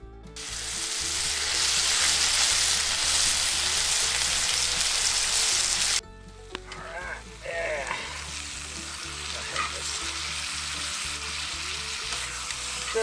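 Steak tips searing in a hot pan give a loud, dense sizzle for about six seconds. After that it drops to a quieter crackle with occasional stirring scrapes, close up and with no talk.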